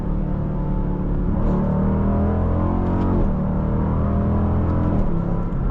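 A 2023 Dodge Durango SRT 392 V8 accelerates hard, its engine rumbling loudly from inside the cabin as it climbs through gears, with brief dips at each shift.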